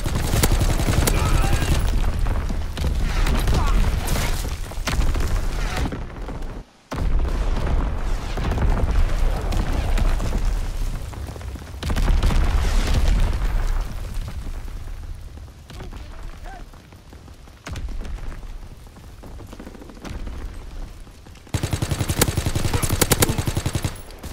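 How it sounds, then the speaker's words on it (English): Dense, continuous battlefield din of enemy artillery fire and explosions in Call of Duty: WWII, loud booms and gunfire layered over each other with a brief gap near the middle and heavy rumble throughout. "Incoming enemy artillery! Get to cover!"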